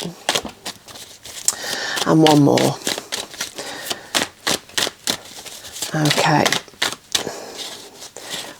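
Tarot cards shuffled by hand at close range, two bursts of quick riffling crackle separated by scattered taps and card handling, with a voice speaking briefly between.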